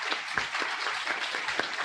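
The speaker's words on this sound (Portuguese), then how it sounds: "Eu gostaria de pedir uma salva de palmas para o pessoal aqui" An audience at an energy efficiency event in a university hall applauds, a brief, fairly faint spatter of clapping from a modest crowd.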